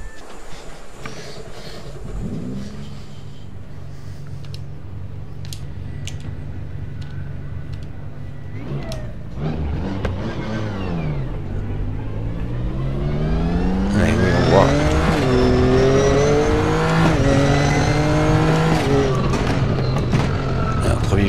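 Race car engine in the RaceRoom Racing Experience sim on the Zandvoort circuit in the Netherlands, idling low before climbing through loud revving gear changes and sustained high-pitched acceleration, close and continuous.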